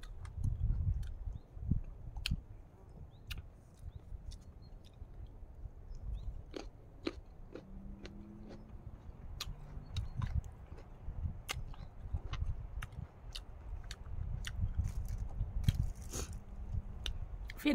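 Homemade pickled apple with chili and salt is eaten outdoors among flowers, with close, crisp crunching bites and steady wet chewing throughout, the faint rustle of the surroundings behind.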